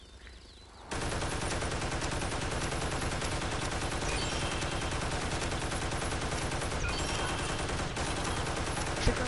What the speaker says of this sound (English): I get all the upgrades for this anti-air gun right here